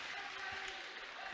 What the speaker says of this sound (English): the Wild Rose faithful, a round of applause for their girls so far